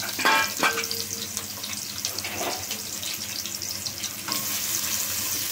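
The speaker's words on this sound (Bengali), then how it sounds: "তেলটা গরম হলে আমি পেঁয়াজ দিয়ে দিলাম, বেরেস্তা করার জন্য পেঁয়াজটা দিয়ে দিলাম।" Sliced onions sizzle in hot oil for beef biryani beresta, a steady frying hiss with a few clattering bursts of stirring and what may be running water nearby; no one speaks.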